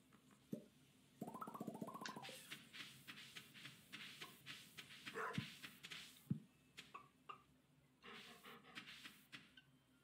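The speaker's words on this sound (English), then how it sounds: "Pet the dog, very important." Dog barking in the Stardew Valley video game, a series of short yips and barks in bursts among soft panting-like sounds, fairly quiet with no talk.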